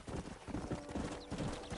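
Horse hooves clip-clopping at a brisk gallop in the Western video game Red Dead Redemption, a steady near rhythm with a brief whinny amid outdoor ambience.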